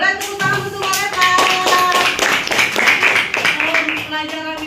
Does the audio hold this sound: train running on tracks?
no